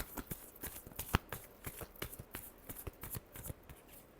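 Tarot cards are shuffled close up in quick, irregular riffles and taps that form a steady crisp patter, with one sharper snap partway through and no talk over them.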